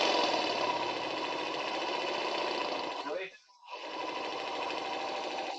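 A small electric motor turns slowly under PWM speed control, giving a steady close mechanical hum with a fast pulsing texture that briefly dips and then resumes.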